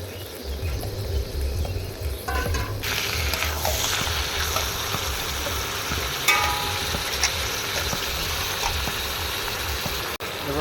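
Mutton pieces with fat sizzle as they go into cooked-down spice masala with tomato, a loud, continuous crackling fry with occasional clatter and no talking.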